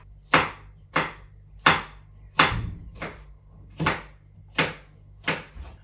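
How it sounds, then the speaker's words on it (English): A knife cutting vegetables into strips on a cutting board for Croatian ratatouille, eight crisp thudding chops at a steady, unhurried rhythm, close and clear with no talking. "and we'll cut into strips"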